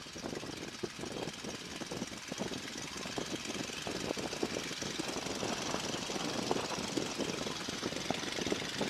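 A warmed-up small aircraft engine running at idle during an ignition check before a first flight, a steady close rumble with rapid rhythmic knocking pulses, slowly growing a little louder.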